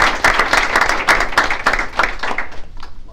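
An audience at a school board meeting breaks into dense, loud applause that holds steady for a few seconds, then begins to thin out at the end.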